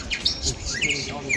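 Recorded bird song played back from a bird in the Blue Mountains of Australia, a brief burst of bright chirps and tweets heard close.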